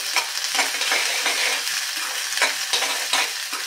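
Chopped capsicum being stirred with a spatula in a pan of gobi manchurian, giving repeated scraping strokes over a steady background sizzle, close and fairly loud with no talking.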